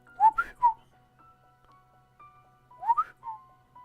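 A voice imitates a bird's whistling call during a tabletop fantasy role-play session: two short rising-and-falling whistled chirps open the clip, a faint sustained tone follows, then two more whistled notes near the end, with no talk.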